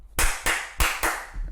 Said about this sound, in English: Oh no, we need to clap first, sorry